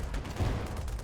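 Short burst of rapid automatic fire from a turret in the undead strategy game Age of Undead, a rattling string of shots repeating evenly for about a second.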